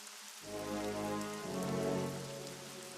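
Steady rainfall in the video game The Witcher patters continuously, with a low tonal drone rising in beneath it; no talking.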